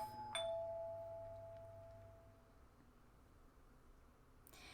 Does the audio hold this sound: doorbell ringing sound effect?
yes